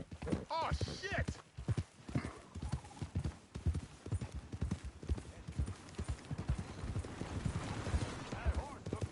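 Horse hooves clip-clop in a steady rhythm on a hard surface in Red Dead Redemption 2, with a person talking over the steps.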